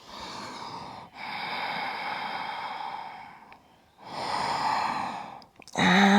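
Ujjayi ocean breath during a Rocket Yoga flow, heard as long, hissing, throaty breaths through the nose and throat, three sustained surges separated by short pauses, close and fairly loud with no talking.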